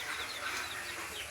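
Chickens cluck briefly on a chicken farm, a faint scatter of hen calls over a hissy outdoor background.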